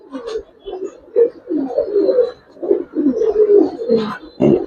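Coloured domestic pigeons, including a hen just out of moult, coo in repeated soft throaty bursts close by, with a few brief rustles between calls.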